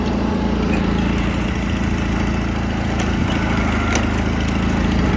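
A Honda 5518 garden tractor's engine runs steadily nearby, a loud, constant low rumble with faint mechanical rattles on top and no talking.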